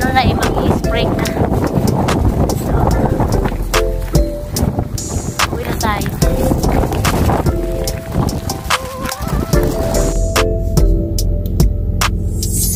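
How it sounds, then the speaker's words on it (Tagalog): Strong wind buffets the microphone with low rumbling gusts, mixed with scattered clicks and tones from a nearby device. "mahangin, mahangin dito."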